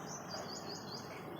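A small bird chirps in Nehru Park in Bhuna, Fatehabad, giving a quick run of repeated high tweets over a steady outdoor background hiss, with no voices.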